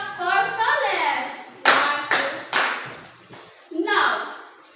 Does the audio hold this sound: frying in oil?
no